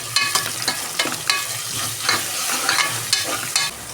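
Onions frying with ginger-garlic paste in a pan for a sprouted green gram rice bath, a steady close sizzle broken by repeated scraping stirs at a fairly regular rhythm, with no talking.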